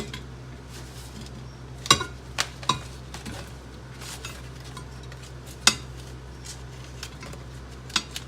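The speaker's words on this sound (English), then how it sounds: "I just go ahead and scrape them off." Metal utensil scraping roasted chipotle sweet potato pieces off a baking pan, giving a few sharp clacks and scrapes among low, steady kitchen background noise.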